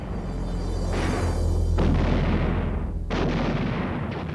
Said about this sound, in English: From inside the perimeter, UN artillery continually pounded the encircling and pressing enemy.